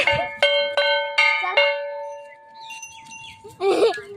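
A kansar gong is struck during a small chariot procession, giving several bright ringing strikes in quick succession whose metallic tones sustain and fade, followed by children's voices and shouting nearby.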